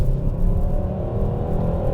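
A 2024 Hyundai Sonata N Line sedan accelerates hard from cruising speed, a deep steady engine rumble with road and wind roar heard from inside the cabin, loud and continuous.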